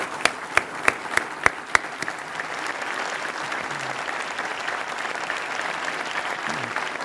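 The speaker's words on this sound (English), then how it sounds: "Let's give them a round of applause." A public audience bursts into applause: a few sharp early claps, then dense, steady clapping that fills the room for several seconds.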